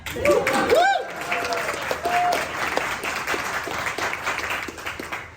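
Comedy show audience clapping in support of striking screenwriters, a burst of applause with a few cheers and whoops at the start that continues at a fairly even level throughout.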